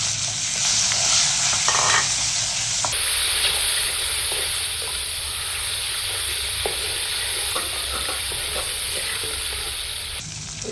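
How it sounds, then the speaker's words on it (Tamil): Chopped onions, green chillies and asafoetida frying in oil for Chettinad kalani puli saru, a constant close sizzle with occasional stirring scrapes, steady and without talk. "வெங்காயம் நறுக்கி வச்சுருக்க எல்லாத்தையும் போட்டுருங்க"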